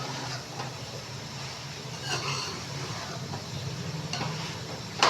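Chicken, black-eyed peas and potatoes are stirred in a pan, giving a steady sizzle with scraping strokes that recur at a relaxed pace and stay close and moderately loud, with no one talking.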